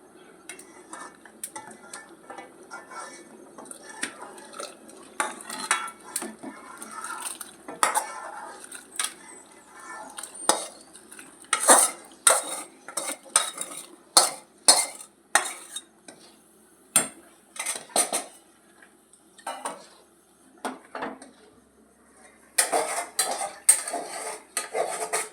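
Sautéed vegetables are tipped into a pot of vegetarian khichuri and stirred in, with repeated sharp clinks and scrapes of a metal spoon against the pot at an irregular rhythm, close and fairly loud.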